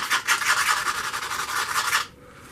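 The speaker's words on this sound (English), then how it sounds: "we're just going to sand that with a very fine grit, just lightly" Fine-grit sandpaper rubbed lightly over the front face of a handmade leather beveler stamp, giving a steady rhythmic rasping of quick back-and-forth strokes, close and loud, stopping abruptly near the end.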